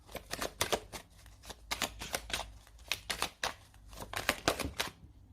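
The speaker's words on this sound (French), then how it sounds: "je vais mettre une carte sur ce choix" Tarot cards being shuffled and placed on a table, a quick run of crisp, close paper flicks and taps in irregular bursts for about five seconds, with no talk.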